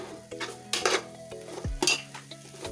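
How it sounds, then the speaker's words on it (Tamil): Tempered mustard seeds stirred into an Onam sadhya thoran in a pan, with repeated clinking scrapes of a spoon against metal over a low sizzle, in irregular bursts; no voices. "சேர்த்து ஒரு தடவை நல்லா ஒன்று கிளறிடணும்"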